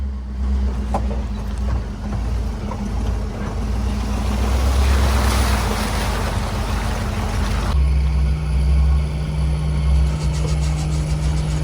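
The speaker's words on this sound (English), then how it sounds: "Now we're getting to some flowing water." A John Deere 8330 tractor drives through flowing river water, its steady low engine rumble running beneath a broad wash of churning, splashing water that swells in the middle and continues to the end.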